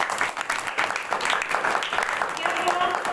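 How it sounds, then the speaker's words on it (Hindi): An audience at a spiritual Rajyoga class claps together, steady applause running throughout while a voice talks over it. "ताली बजाओ सब लोग।"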